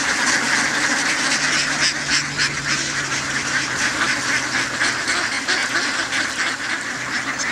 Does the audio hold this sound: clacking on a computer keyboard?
no